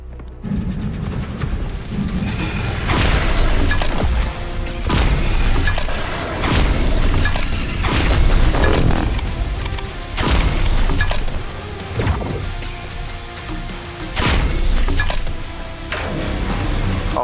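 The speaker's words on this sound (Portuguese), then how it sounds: "A arma dá um tiro e recarrega." Weapon fire and reloading in the video game Ironsand: heavy booming shots burst out every second or two, separated by mechanical clatter, over a constant dense game soundscape with no talking.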